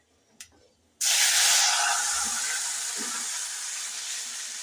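Tomato rasam is poured into a hot pan and bursts into a loud, sudden sizzle that settles into a steady hiss, with a small clink just before.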